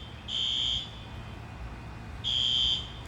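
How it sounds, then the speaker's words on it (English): A small fire alarm sounds two shrill electronic beeps, the first about half a second long and the second a little longer, separated by a pause over quiet room tone. "that little fire alarm went off"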